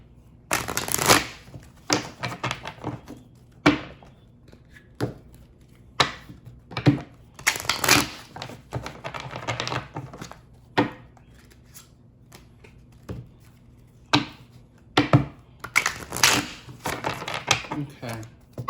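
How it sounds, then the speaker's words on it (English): Tarot cards are shuffled in repeated riffling bursts, each a crisp papery flutter, with short pauses between them. The sound is close and fairly loud, with a faint steady hum underneath. "Let me go ahead and shuffle real quick."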